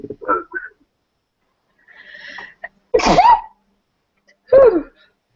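A sharp, sudden sneeze bursts out up close, followed a little later by a second similar burst, with soft voices and quiet pauses around them.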